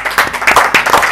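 An audience applauds for Bang Rhoma, a short loud burst of clapping from a crowd, close and continuous.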